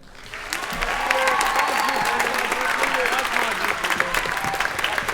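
Audience applause for seniors at a school orchestra spring concert, a dense, steady wash of many clapping hands building quickly and holding loud throughout, with some voices mixed into the crowd noise.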